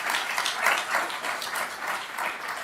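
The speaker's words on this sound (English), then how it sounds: "Let's give the Minister a massive round of applause." Audience applause for a government minister at a UK India Week business event, a full room clapping steadily in overlapping waves with no talk over it.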